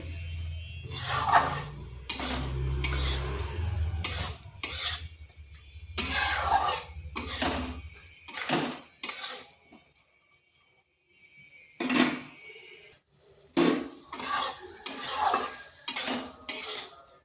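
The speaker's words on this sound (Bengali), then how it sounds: "এরপর এখানে দিয়ে দেবো করলাগুলো। এই গ্রেভির সাথে ভালোভাবে মিশিয়ে নিচ্ছি।" Bitter gourd pieces get stirred into a potato gravy in a pan: bursts of spoon scraping and clattering against the metal pan with short pauses and a silent gap midway, close and without talk.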